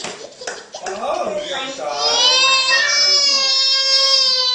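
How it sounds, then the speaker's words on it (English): A young child screaming and wailing indoors, starting with broken cries and rising into a long, loud, high-pitched sustained scream. "Don't scream like that."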